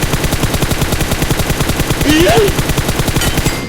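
Loud, fast automatic gunfire in a shooter video game keeps up an unbroken rhythm of closely spaced shots through the whole stretch, with a brief voice-like squeak partway through.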